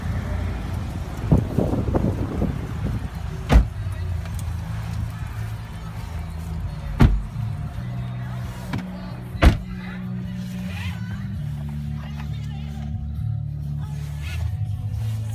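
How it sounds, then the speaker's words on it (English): A 2010 Chevrolet Traverse LT AWD on a test drive, heard from inside the cabin. A low road and engine rumble runs throughout, with a few sharp clicks and thumps, and someone speaks briefly at the start. "Let's take you guys on a quick test drive."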